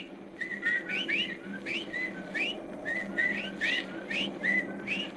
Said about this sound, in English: Listen. Well, there are the whippoorwills.